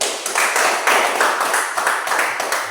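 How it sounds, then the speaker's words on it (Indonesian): A group of children claps hands steadily and continuously for a few seconds, a dense patter of many hands close by in a classroom, with faint voices mixed in. "kita berikan tepuk tangan."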